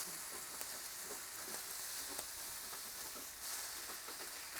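Bacon frying gently on a four-burner stove with all burners on very low, giving a steady, soft sizzle with faint crackles throughout and no talk.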